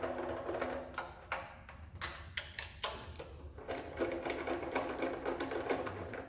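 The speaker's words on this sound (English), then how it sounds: "take these pan bolts off real quick." Oil pan bolts coming off a Chevy 350 engine make a close, steady stream of rapid mechanical rattling and clicking, with a few sharper knocks standing out over six seconds.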